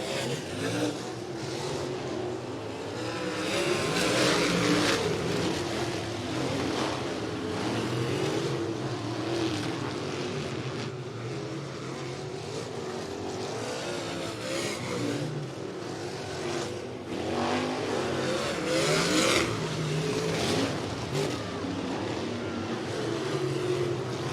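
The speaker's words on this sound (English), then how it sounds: "Halverson and Bruns duking it out for second" Wingless sprint cars race at Interstate Speedway, their engines a continuous loud roar that swells and fades as the cars pass and accelerate around the dirt oval.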